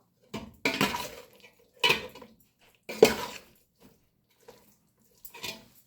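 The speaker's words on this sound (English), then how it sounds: "I will add in a tablespoon or 2 of my fried onions at this point, and I'll give it a quick stir" Fried onions being stirred into pulao in a metal pot, heard as five or six separate close clinks and scrapes of a spoon with quiet gaps between them.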